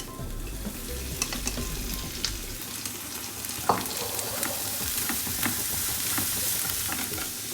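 Jaggery and grated coconut cooking in ghee in a pan, with a steady sizzle and frying crackle throughout, a spoon stirring now and then with scraping clicks, close and fairly loud with no talk.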